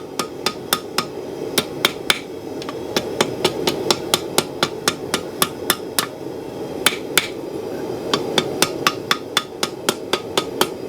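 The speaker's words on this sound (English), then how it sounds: "light hammer blows." Light, ringing hammer taps on metal while forging a spoon, struck in a quick steady rhythm with brief pauses, close by over a low background hum.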